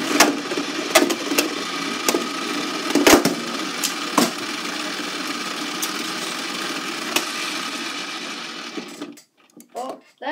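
Beyblade spinning tops whirring and clashing in a stadium, a steady buzzing spin broken by sharp clacking hits, close and continuous, ending in scattered rattles as the tops slow down.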